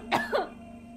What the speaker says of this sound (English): When did you start coughing?